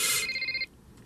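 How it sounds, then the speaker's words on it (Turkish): A telephone rings once in a film scene, a bright electronic trill lasting just over half a second, loud and close, then cutting off into quiet room tone. "Arayan Claire mi?"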